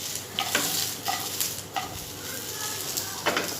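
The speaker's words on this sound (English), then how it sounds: "Keep on frying for another 3 minutes until it's cooked." Potatoes fry with garlic in a pan, a steady sizzle running throughout while four or five distinct scraping bursts of stirring come close and clear.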